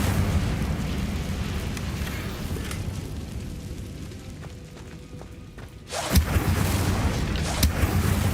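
The Incendio fire spell is cast in Hogwarts Legacy with a sudden fiery whoosh and burst that cuts through a dense, rumbling background, followed by crackling flare-ups.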